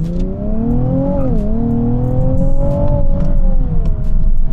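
A 2020 Nissan 370Z NISMO engine drones loudly from the cabin, its pitch dipping then climbing as the driver downshifts, a continuous close whine over road rumble.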